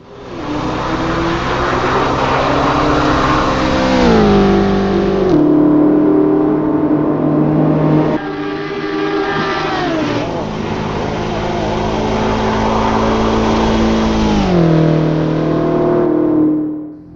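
A 2020 BMW X6M laps the Nürburgring, its engine loud and close inside the cabin, revving up through the gears with several shifts and drops in pitch as it brakes and accelerates again.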